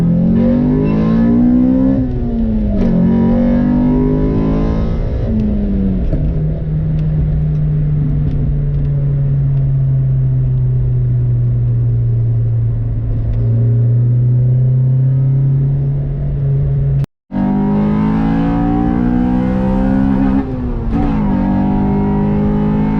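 A Honda EK4 with a VTEC engine revs hard, its induction roaring and rising in pitch before settling into a long steady drone, then climbing again after a brief cut, loud and close.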